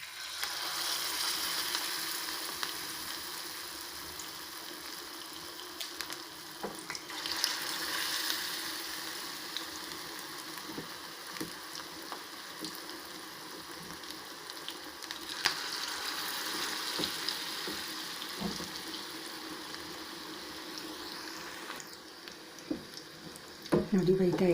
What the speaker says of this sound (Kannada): ನೋಡಿ, ಬೇಯ್ತಾ ಇದೆ. ಇದು ಫ್ರೈ ಆಗ್ತಾ ಇದೆ.